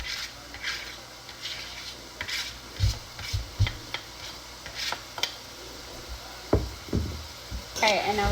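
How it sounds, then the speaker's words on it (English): Ham frying with onions, peppers, cilantro and recao in a pot for Puerto Rican rice and beans, a spoon knocking and scraping in irregular taps over a low sizzle, with a voice talking now and then. "So we're gonna stay here stirring this about like 5 minutes because we want to cook it up"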